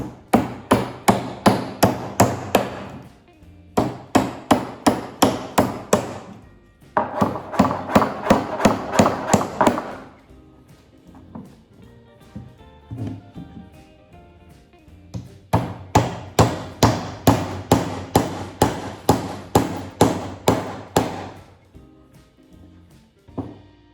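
Rapid bursts of hammer blows driving nails into a wooden bluebird box, several quick runs of strikes separated by short pauses, close and loud, with no talking.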